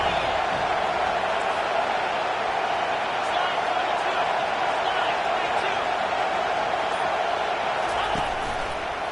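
Home crowd noise at a college football game in CFB25 with Texas facing Penn State, a loud sustained roar from a packed stadium on third down, continuous and close, with a voice talking over it.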